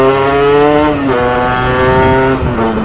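A Sherco Factory supermoto motorcycle accelerates hard and close, its engine note climbing in steady harmonic sweeps, easing briefly and then pulling up again, loud throughout with no talk.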